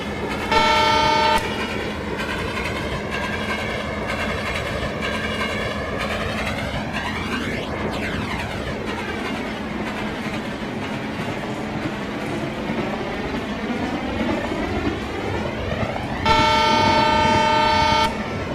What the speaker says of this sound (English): So right now our train just going to arriving at the Bhongir platform number 2.